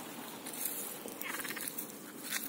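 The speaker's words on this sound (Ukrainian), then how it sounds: "Жаба." Frogs croak in quick, duck-like bursts against an outdoor background, fairly faint and continuous with no talking.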